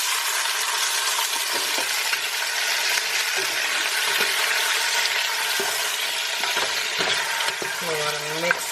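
Fresh Scotch bonnet peppers sizzle in a hot pan with a constant bright crackle, punctuated by occasional clinks and scrapes of a utensil stirring, and a faint voice right at the end.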